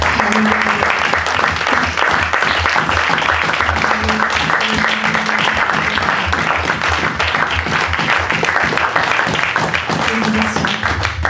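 A church congregation applauds, dense sustained clapping that stays loud and steady throughout, with a faint voice underneath.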